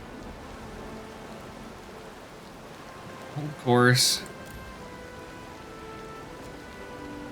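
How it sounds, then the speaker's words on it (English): Steady rain pours through a storm in Pillars of Eternity II: Deadfire, a continuous hiss with a brief louder tonal game sound in the middle, and a voice speaks briefly. "The wind calms, rain pours from the sky."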